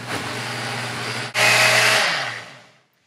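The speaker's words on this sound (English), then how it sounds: "So let's get blending." A small kitchen blender whirs steadily while blending orange juice with parsley and mint, pauses for a split second, restarts louder, then winds down to silence, close and alone.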